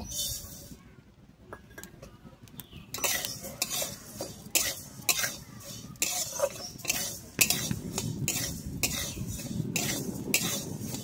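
Moong dal dry-roasts in a pan on a stove, stirred with a utensil that scrapes and clinks against the metal in quick repeated strokes over a soft background hiss.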